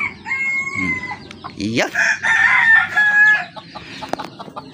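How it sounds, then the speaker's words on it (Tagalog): A Talisay hen clucks loudly and close, with drawn-out cackling calls and short clucks, and someone briefly says a word. "Isang talisaying inahin."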